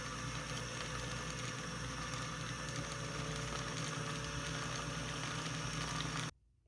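Vintage Singer 301 sewing machine winding a bobbin at slow, foot-controlled speed, a steady close motor hum and whir running evenly before cutting off abruptly near the end.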